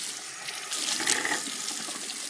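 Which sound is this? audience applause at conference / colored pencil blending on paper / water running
water running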